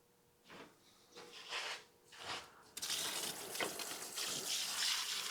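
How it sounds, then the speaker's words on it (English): Water drains from a Wazer Pro waterjet cutter, starting as a few uneven gurgling surges and then turning into a steady, loud rushing flow. "Drain down the water."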